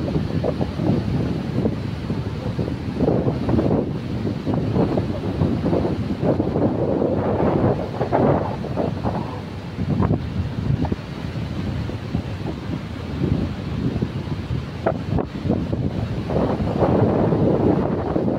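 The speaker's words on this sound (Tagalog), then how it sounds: "Ayan yung alon." Ocean waves at the seashore, with surf rolling and washing in loud continuous surges mixed with heavy wind buffeting against the microphone.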